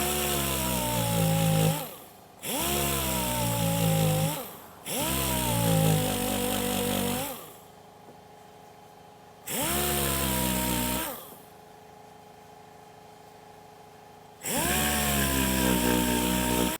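A power sander works the bubble on a GTO car body in loud bursts of a few seconds each, stopping and restarting several times with quiet gaps between.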